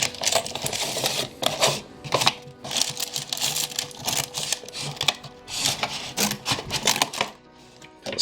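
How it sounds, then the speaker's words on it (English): Scissors cut through the plastic parts of a Star Wars Black Series Force Unleashed Starkiller and Stormtroopers 3-pack, giving close, busy crinkling and snipping with repeated sharp clicks and rustles throughout. "And then I'll just cut straight through."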